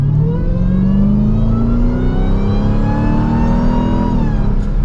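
A new Dodge Durango SRT Hellcat's supercharged engine revs up hard under acceleration on a test drive, its loud, steady roar rising in pitch for several seconds before easing near the end, with no talking.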